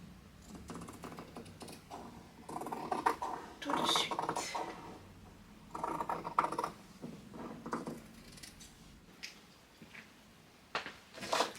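Scissors snip through cotton fabric for an ironing board cover in a series of irregular, close cutting bursts, with faint handling rustle between the cuts.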